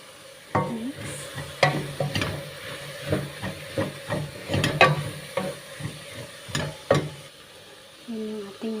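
Vegetable soup with black pepper and salt being stirred in a pot, with repeated scraping and clinking strokes in an uneven rhythm over a steady hiss, close and moderately loud.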